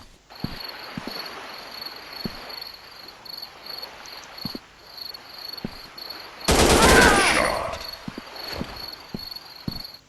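Rapid gunfire in the mobile shooter game Counter Terrorist Shoot, scattered single shots early on, then a dense loud burst of automatic fire midway, over a constant high electronic hum from the game.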